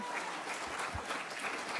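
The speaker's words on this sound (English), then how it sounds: "Please hold your applause till the end of public comment." Steady applause from the audience at a school board meeting, a dense, continuous patter of many hands filling the room at even loudness with no pauses.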